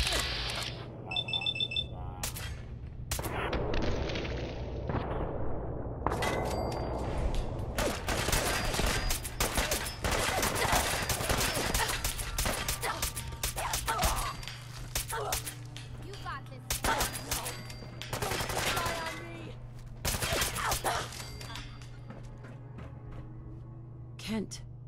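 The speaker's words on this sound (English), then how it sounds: "Then we're gonna shoot the hell out of you." Shootout gunfire in the Fallout video game at Milton General Hospital, with bursts and shots crackling across a long stretch under steady background hum, mixed with game sounds and occasional speech.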